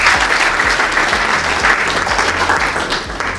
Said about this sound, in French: Applaudissons pour Caramis.